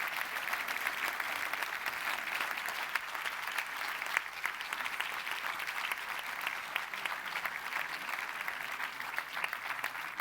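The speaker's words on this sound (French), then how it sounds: "on les applaudit encore une fois bien fort," A large crowd at a doctoral graduation ceremony applauds steadily and warmly, a dense even patter of clapping that holds for the whole stretch.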